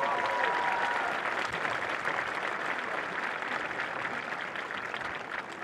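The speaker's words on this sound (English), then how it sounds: "Let's recognize them now with a round of applause." Audience applause at the Fair Lawn High School 2023 commencement: a steady wash of many hands clapping at moderate distance, slowly tapering in loudness.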